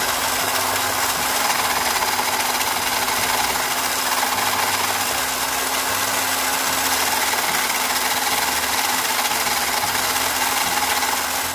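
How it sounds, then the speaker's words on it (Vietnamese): An OZITO drill bit sharpener grinds a 6 mm drill bit, giving a steady, continuous abrasive hum and rasp with a faint motor tone. It stays even and unbroken throughout, with no voices. "Mình nhét vô cái máy để mình mài xem coi nó có cải thiện được không nha anh em"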